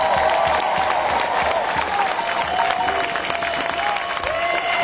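Crowd at a street protest in New York cheering and applauding for a live band, steady dense clapping and shouts filling the whole stretch, loud and close.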